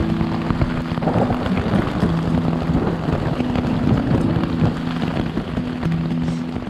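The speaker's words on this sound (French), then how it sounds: "là l'orage est vraiment sur moi" Rain pattering steadily on a tent during a thunderstorm, a dense continuous hiss of drops with a low steady hum underneath, close and loud throughout without talk.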